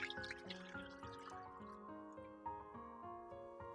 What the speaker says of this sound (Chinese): 准备一口奶锅，将玉米液给它倒入锅中